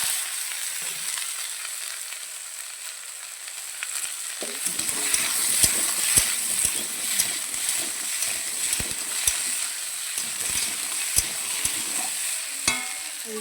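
Taro and potato frying in a pan with ginger-garlic paste, a steady sizzle joined after a few seconds by repeated scraping and clacking stirring strokes at close range.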